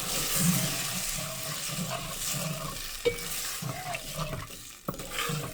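Spicy chicken gizzard curry with bay leaf sizzles in a pot while a spoon scrapes and stirs it, producing a soft continuous frying hiss with a couple of sharper knocks against the pot.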